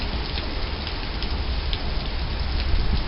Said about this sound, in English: I'm glad it's raining today.